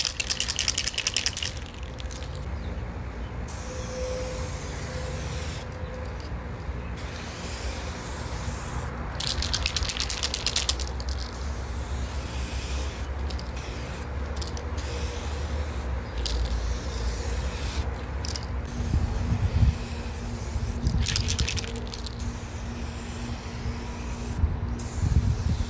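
A final clear coat sprayed onto restored, previously faded car headlights, a steady hissing spray with several brief pauses between passes, close and continuous, with no talking.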